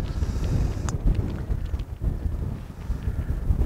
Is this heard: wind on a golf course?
yes